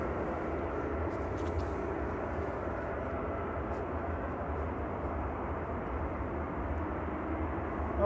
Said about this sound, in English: The engine's starting up.